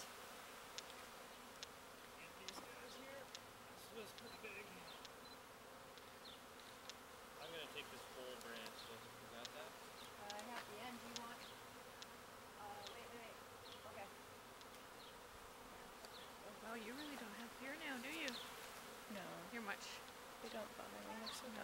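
A swarm of honeybees fanning outdoors makes a steady, dense buzzing drone throughout, with individual bees zipping past near the microphone and no talk.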